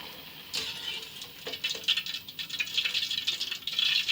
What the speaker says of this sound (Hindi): इनको हम निकाल के खोलते हुए शीरे में डाल दें